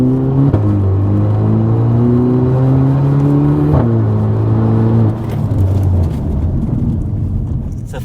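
Volkswagen Polo 6 GTI with a custom stainless steel exhaust, engine note steady then dropping as the car brakes, a falling drone with a shift around the four-second mark, loud and close under faint talk.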